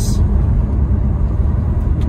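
A 2019 Renault Trafic SL27 dCi 120 van out on a road test drive, its engine and road noise forming a steady low cabin rumble, loud and close, with no distinct events.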